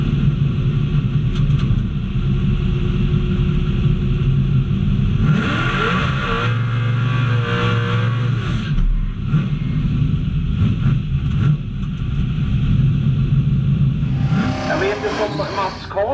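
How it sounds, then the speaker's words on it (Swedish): A Corvette drag racing car fitted with a pickup truck engine idles with a deep, loping rumble, then revs hard in bursts before returning to a low idle. "Är det motorn från pickupen han har i här, eller är det nybyggd?"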